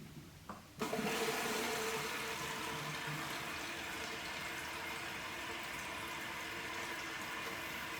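After a brief click, water rushes steadily into a toilet tank after the flapper and chain are replaced, a continuous hissing refill that keeps going at an even level.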